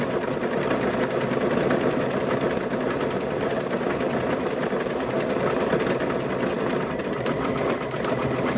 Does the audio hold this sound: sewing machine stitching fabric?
yes